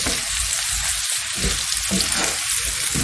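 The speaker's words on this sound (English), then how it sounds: "Now add cooked potatoes to the onion and mix with onion." Cooked potatoes frying in a pan with onions and being stirred, a steady close sizzle with soft scraping stir sounds throughout, no voices.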